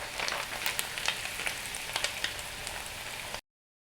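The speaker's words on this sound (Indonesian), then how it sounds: "Jadi goreng terinya setengah matang aja" Small anchovies (teri) fry in hot oil with a dense, steady crackling sizzle and scattered sharper pops, close and continuous until it cuts off abruptly.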